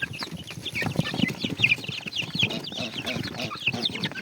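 Chickens clucking busily while feeding, many overlapping clucks and chirps with pecking, close and continuous.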